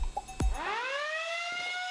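A lunk alarm sounds in a comedic gym commercial, a loud siren-like electronic wail that sweeps upward and then holds a steady tone after a sharp thud.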